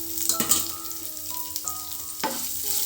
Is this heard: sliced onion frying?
yes